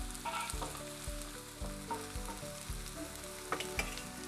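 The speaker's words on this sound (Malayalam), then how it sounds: "ഇനി നമുക്ക് ഇതിലേക്ക് ഒരു പച്ചമുളകാണ് ഇടേണ്ടത്." Finely chopped green chilli frying in a pan for an egg wrap, a steady oily sizzle with a few scraping stir strokes and light clinks.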